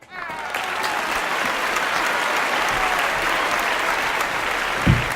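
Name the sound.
applause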